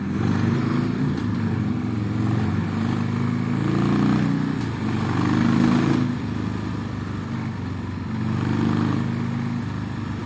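A 2006 Harley-Davidson Sportster 1200 ridden at a casual pace, its engine rumbling steadily up close and rising and falling gently with throttle, amid wind noise.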